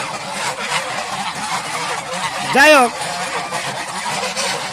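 Domestic geese on a goose farm, with a single loud nearby honk rising clearly over someone talking steadily, set against a low background murmur.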